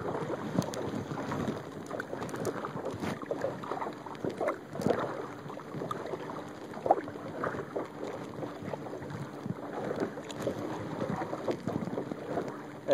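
Kayak paddle strokes around an island, soft repeated splashes and drips against a quiet background of wind and gentle water, steady and close.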